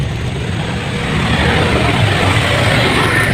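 Vehicles passing on a road at night, a steady broadband rumble of engines and tires that swells slightly as traffic goes by, with no talking.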